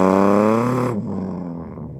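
A human voice imitates a roadways bus with a loud, close, buzzing engine drone that holds steady, then cuts off into a lower, rougher fading rumble.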